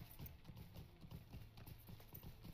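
Steady clip-clop of horse hooves from a mount in the online game Lord of the Rings Online, a close, even trotting rhythm that carries alone throughout.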